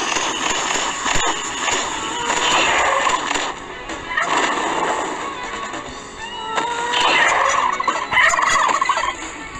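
Chickens and other fowl in the Roblox game Kaiju Godzilla Universe cluck and gobble continuously in bursts over a steady background hum, with no one speaking.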